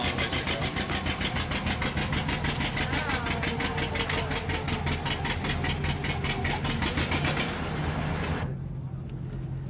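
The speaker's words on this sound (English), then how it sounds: "this is a very husky tractor, a Massey Ferguson 98, driven by Phil Carlson of Beaverton, Oregon, 65 horsepower" Massey Ferguson 98 tractor, a 65-horsepower machine, pulling a sled: a loud, steady engine drone with a rapid rhythmic throb that continues for most of the span, then cuts back sharply near the end; voices are audible over it.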